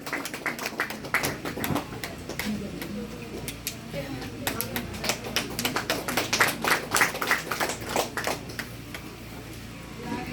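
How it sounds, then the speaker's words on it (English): Audience at a Chakma School Teachers' Association general conference applauds steadily for about ten seconds, a dense patter of clapping hands that swells slightly in the middle, with some talking mixed in. "With a huge round of applause, please give Mangal Chakma, give him a big hand."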